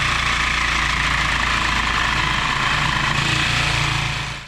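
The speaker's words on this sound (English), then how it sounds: "you look way too excited to sawzall into my car" Reciprocating saw cutting into a 1938 Plymouth car, a loud, continuous buzzing rattle heard close up, steady throughout before cutting off at the end.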